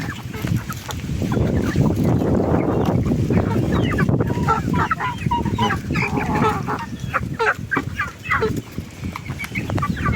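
Chickens clucking and squabbling loudly at close range while feeding on fermented madre de agua feed, busy overlapping calls with brief pauses, steady and near throughout.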